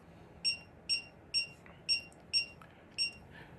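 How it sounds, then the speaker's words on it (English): A Schlage electronic deadbolt keypad beeps during programming: six short, high electronic chirps at a steady pace about half a second apart, fairly faint over low room hiss. "press the set button for 1 second. It will beep beep."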